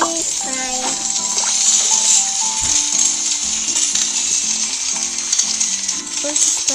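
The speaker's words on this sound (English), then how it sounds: "Time to fry it." Cartoon frying effect from the BabyBus Ice Cream Truck children's cooking game, a steady bright hiss of sizzling running throughout under a bouncy electronic melody with short game chimes.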